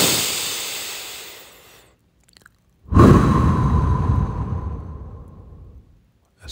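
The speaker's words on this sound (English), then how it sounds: "Breathing in through your nose and out through your mouth." A slow, audible breath drawn in through the nose fades out, followed after a short pause by a strong, close breath pushed out through the mouth that gradually tapers off. It is a calm warm-up breath in a breathing exercise.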